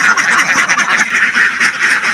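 A flock of farm ducks in a net-enclosed shed under a solar roof quacks continuously and loudly close by, with dense, overlapping calls and no talking.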